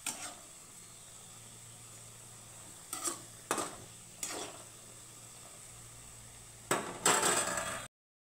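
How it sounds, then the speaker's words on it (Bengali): Khurma (murali) dough pieces fry in oil over low to medium gas while being gently stirred: a faint steady sizzle broken by several brief metal clinks and scrapes, swelling louder near the end before cutting off. "গ্যাসের আঁচটাকে একদম লো টু মিডিয়াম করে কিন্তু ভাজতে হবে"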